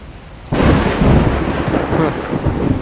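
A heavy thunderclap bursts in suddenly after a quiet moment and rumbles on with a dense downpour of rain, loud and booming, continuing without a break to the end.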